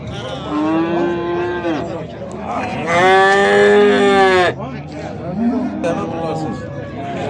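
Cattle at a livestock market in Beyləqan, a few loud, drawn-out moos close by, one long bellow in the middle, while people talk and bargain underneath.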